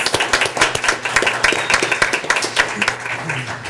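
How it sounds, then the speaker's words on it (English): An audience at a school board meeting claps for 5th and 6th grade state chess qualifiers. The applause is steady and fairly close, made of many overlapping hand claps, with some murmuring voices underneath. "give them a round of applause"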